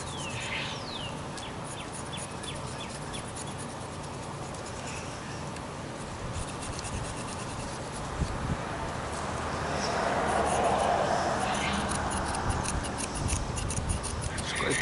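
A knife blade scrapes the bark of a tree branch to damage the cambium for air layering, a continuous close rasping scrape that grows slightly louder toward the end, with no talking.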